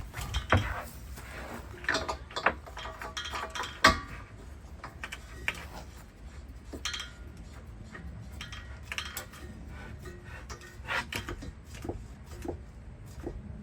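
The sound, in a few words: LPG gas bottle being hooked on in a locker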